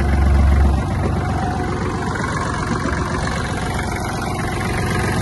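A Kubota GL-260 Japanese mini tractor engine runs at a steady idle nearby, a continuous low rumble with slight vibration, a little louder at the start and then even throughout, with no talk.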